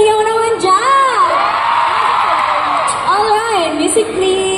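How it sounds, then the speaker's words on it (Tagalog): A big crowd at a live concert in Dubai roars and cheers loudly and continuously, with high whoops and yells over a dense wall of shouting, a voice on the sound system rising within it. "Isang malakas na hiyaw naman dyan!"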